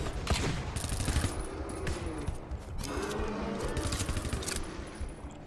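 Rapid turret gunfire from the video game GTFO rattles in dense bursts across the whole stretch, loud and continuous with brief shifts in intensity and no talk over it.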